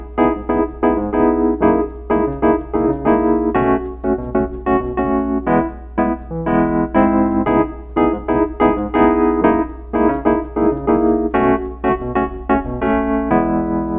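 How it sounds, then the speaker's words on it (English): Solo piano plays the syncopated intro of a song in an R&B soul style, with rhythmic chord stabs and left-hand movement, loud, close and alone without talk. "let's go ahead and get started with the intro. It sounds like this."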